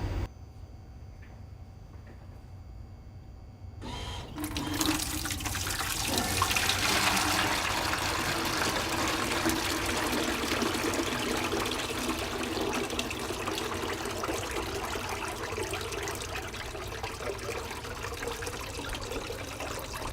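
After a quiet start, water begins rushing and draining steadily from a soft serve machine, a continuous gurgling flow that runs without talk to the end.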